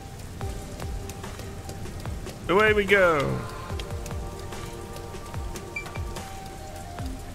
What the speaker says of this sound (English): I do like the rain effects in this game